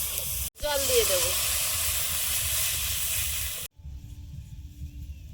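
Water poured into a hot pan of ground turmeric, chilli and cumin bursts into a loud, close hiss of steam that holds for about three seconds and then cuts off abruptly, with low kitchen rumble underneath.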